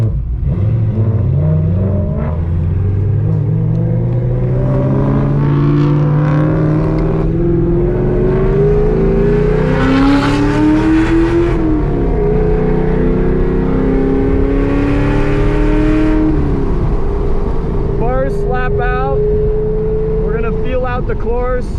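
A 1,000-horsepower Hennessey Exorcist Camaro ZL1 built as a drag car drives on a track course, its loud engine rising and falling through gears as it revs, with some talking over it.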